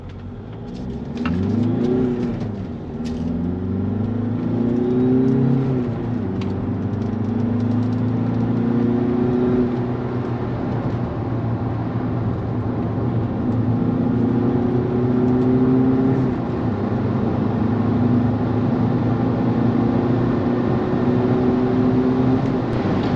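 A 2003 Audi A4 B6 TDI 130 hp diesel accelerates hard in sporty driving, its engine note repeatedly climbing in pitch and dropping at gear changes, loud and sustained from inside the car.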